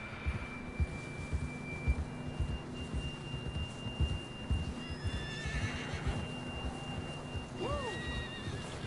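A horse whinnies in Red Dead Redemption II, a brief rising and falling neigh near the end over quiet hoof thuds and a soft steady hum, with no talk during it.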